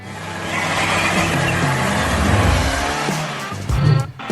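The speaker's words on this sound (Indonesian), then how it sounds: "Dalam perjalanan yang mengasyikkan dengan mobil barunya." A new car on the move, its steady engine and road roar filling the whole stretch and swelling briefly louder just before the end.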